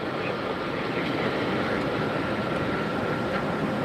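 A WestJet airliner arriving from Toronto at Tampa airport, heard as a steady broadband engine roar, fairly loud and unbroken throughout.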